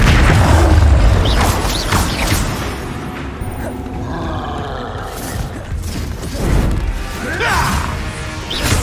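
Incendio fire spells cast in Hogwarts Legacy, loud roaring whooshes and crashing impacts in quick succession during combat, with grunts and battle noise mixed in.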